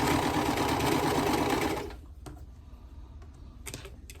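A sewing machine stitches a marked corner-to-corner line across quilt block fabric, running as a steady close-up whir for about two seconds, then stops, leaving only a few soft clicks and quiet handling.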